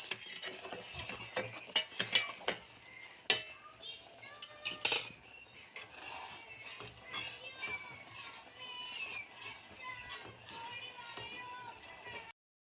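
Cooked mango being mashed in a metal pot for mango payasam makes repeated scraping and clanking of a utensil against the pot, with a faint sizzle and some voices in the background.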